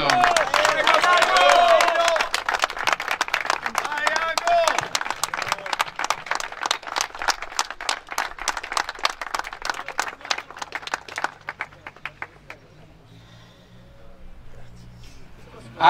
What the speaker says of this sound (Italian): allora premiamo la Matera Calcio Over 40, un grosso applauso.